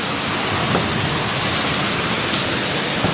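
Heavy rain pours down during a storm with lightning and wind in a steady, dense hiss, loud and unbroken throughout, with no voices.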